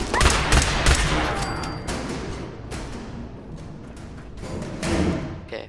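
Heavy, continuous gunfire in Fallout 4, rapid shots and thuds rattling loudly near the start and tapering into steadier bursts of combat noise.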